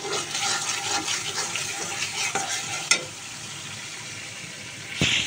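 Singh fish goes into sizzling tempered spices with radish, giving a loud frying sizzle and stirring, then a sharp clatter, a calmer hiss, and another burst of sizzle at the end.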